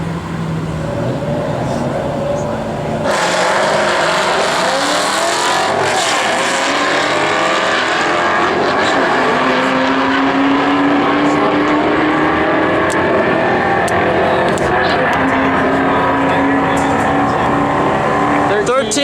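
A 2001 Ford Mustang Bullitt drag racing at the track, engine roaring loud and steady with rising gear pulls and a broad rumble from start to finish, while people talk faintly underneath.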